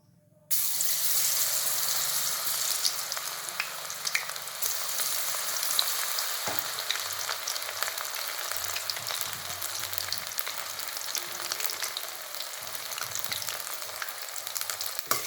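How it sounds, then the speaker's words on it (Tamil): Marinated cauliflower for gobi manchurian deep-frying in hot oil, a steady dense sizzle that runs nearly the whole time, close and loud, with faint stirring shifts partway through and no voices. "இப்போ இதை பொறிச்சு எடுப்போம்"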